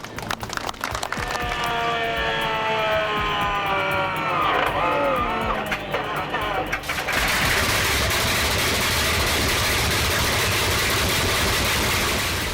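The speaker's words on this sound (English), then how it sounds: "A rare treasure in the world of radial engines, the H57 RC Hercules shines with its circular multi-cylinder layout" A Bristol Hercules radial engine starting up: first cranking whine and sputtering, then a rising tone, before it catches and settles into a loud, dense, continuous roar of running cylinders.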